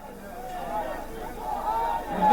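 Crowd of supporters gathered outside the BJP state office, a continuous murmur of many voices with scattered shouts, swelling louder toward the end.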